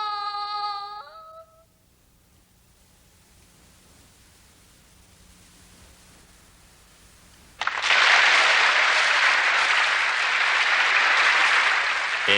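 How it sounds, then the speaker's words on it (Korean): A hall audience on a Christmas night bursts into loud, sustained applause after a mournful poem recital, dense clapping that fills the last several seconds following a short musical cue and a near-silent pause. "앤은 떠나갈 듯한 박수갈채를 받았습니다"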